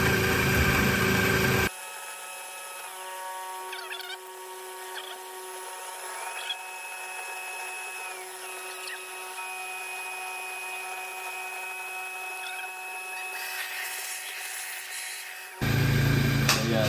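A CNC machine mills a roughing pass on a custom brake caliper rotor adapter, a steady high whine with sustained pitched tones that shift and bend, framed by louder, fuller bursts of machine noise at the start and end.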